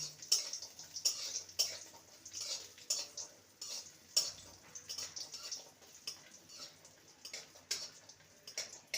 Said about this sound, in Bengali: গ্যাসের ফ্লেমটাকে হাইতে রেখে বড়িগুলোকে ভেজে নেব